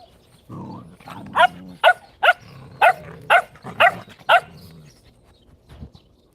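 A dog barks about eight times in a steady rhythm, close and loud, with low growling underneath.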